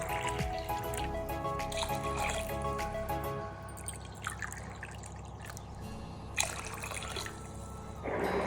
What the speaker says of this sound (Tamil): 3 டம்ளர் அளவுக்கு தண்ணி சேர்த்திக்க போகிறேன்